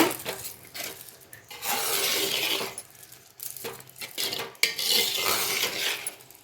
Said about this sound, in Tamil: அடி பிடிக்காமல் கிளறி விட்டுக்கிட்டே இருங்க